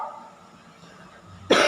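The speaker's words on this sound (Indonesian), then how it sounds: "Nah, ini batuk berisi nih." After a quiet stretch, a single abrupt, loud, wet productive cough bursts out close by right at the end.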